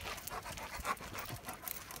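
An Alaskan Malamute panting close by, quick rhythmic breaths over a couple of seconds, fairly quiet and with no talking.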